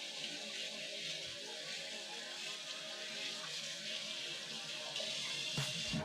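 Steady hiss of tap water running and splashing in a sink as a spatula is rinsed, continuous and fairly soft, with a brief clatter near the end.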